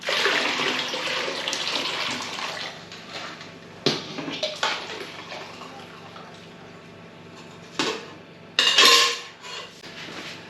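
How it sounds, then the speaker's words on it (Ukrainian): Hot brine for curing pork belly pours into cold water in a 12-litre bucket with a rushing, splashing sound, then several short clinks and splashes follow after a pause. "Зараз ми її виливаємо сюди в холодну воду."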